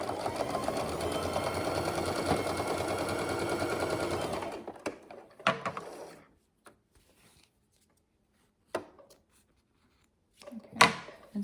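A sewing machine runs a quarter-inch seam on a zippered pouch, a steady close whir for about four seconds, then stops, followed by scattered light handling clicks and taps.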